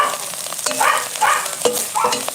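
Grasshoppers frying in a small pan on a butane stove, a steady crackling sizzle with bursts of spattering and stirring scrapes, close up and fairly loud, with no talk.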